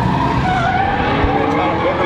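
A supercharged 1UZ V8 drift truck at a drift event, with loud, steady engine roar and tire skidding that fill the whole moment close up while someone talks over it.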